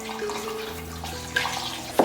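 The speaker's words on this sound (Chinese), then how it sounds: "现在可以来把酸菜洗干净" Tap water runs steadily into a sink while pickled mustard greens are rinsed, with splashy handling noises and a sharper splash near the end, close by and without talk.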